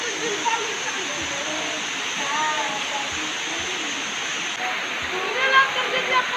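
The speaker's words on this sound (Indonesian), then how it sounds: "Inilah air terjun paling cantik." Kionsom waterfall at Inanam pours with a steady, close, broadband rushing hiss, while a few faint voices sound under the water noise.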